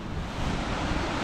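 Big North Sea waves crash and surge against the Scottish coast in stormy conditions, a loud, continuous roar of churning surf with wind buffeting the microphone.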